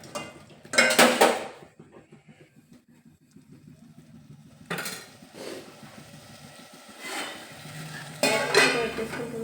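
Spoon stirring curry in a metal pot, with scraping clatters of utensil against the pot in a few bursts, quieter stretches of faint stirring between them.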